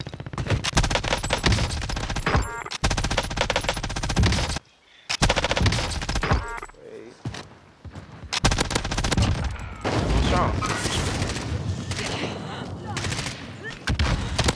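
MG 82 machine gun fired in a video game, long rapid bursts of automatic gunfire, loud and close, with brief pauses between bursts and a player's voice talking at times.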